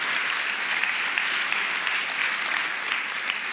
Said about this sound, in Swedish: Och en stor applåd till Ludvig.